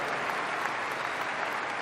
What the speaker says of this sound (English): And let's give a big round of applause.